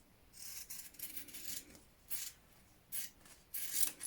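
Scissors snip and rasp through excess fabric while trimming a curved seam on a sleeveless shirt top, several short quiet cutting strokes in irregular bursts, close by and with no talking.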